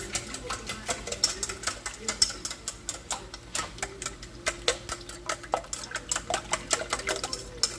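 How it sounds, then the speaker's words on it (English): A whisk beats a breakfast quiche egg mixture in a bowl, rapid steady clicking strokes in an even rhythm, close and clear, with faint talk in the background. "we want to whisk this"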